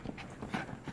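A one-eyed dog pants and shuffles close by, giving soft rhythmic breaths with light paw and movement noises indoors.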